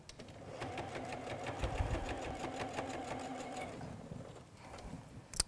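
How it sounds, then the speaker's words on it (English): A sewing machine stitches darts into a small fabric bowl cozy, a steady fast needle rhythm running nearly six seconds at close range before stopping. "you can sew another set of darts"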